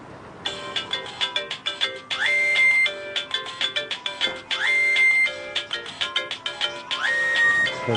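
An electronic phone ringtone plays a bright, repeating melodic pattern of quick chimes in cycles, fairly close and clear, with no voices over it.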